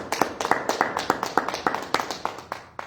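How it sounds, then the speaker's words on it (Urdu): Church congregation clapping loudly in praise of the Lord Jesus during a sermon: rhythmic, fairly regular claps in a steady beat, close and distinct over a quiet background. "آئے خداوند یسوع کے لیے زوردار تالیاں دیں۔"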